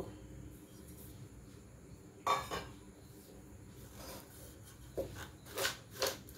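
Fried rice with whole spices, nuts and raisins being tossed in a pan, a few scattered scraping and clinking bursts of metal against rice, faint and close amid low background hum.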